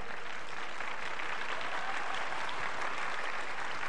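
Students applauding in a classroom for classmates who passed their exams, a continuous dense wash of many clapping hands that stays steady and fairly distant for the full length.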